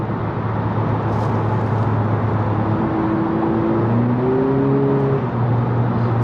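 A 2020 Honda Civic Si engine hums and revs while driving, its tone rising and stepping between gears over constant road and cabin noise, sustained and fairly loud throughout.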